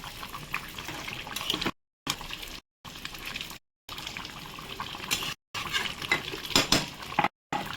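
A spoon stirs spiced chicken curry in a pot after sugar, black pepper and garam masala go in, with clinks against the metal and wet scraping in short bursts broken by brief silent gaps.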